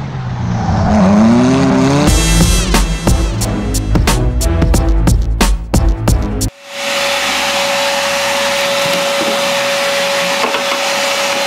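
A BMW-based go-kart fitted with wide Porsche HRE wheels revs hard and loud, the engine note climbing and bursting in rapid pulses, then cutting to a steady high whine over rushing noise.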